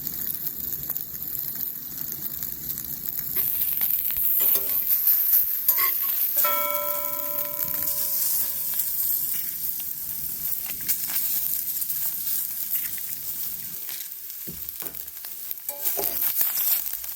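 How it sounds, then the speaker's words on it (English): Spam, egg and hash brown frying in a skillet at a solo camping spot in Washington, a steady close sizzle running throughout with occasional scraping and clatter, no talking. "Another Spam, egg, and hash brown skillet breakfast"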